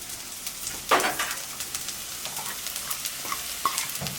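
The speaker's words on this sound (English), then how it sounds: "Do this until the onions kind of go, what we say, they go soft or transparent." Onions frying in olive oil, a steady moderate sizzle with soft scattered crackles and the occasional scrape of stirring close by.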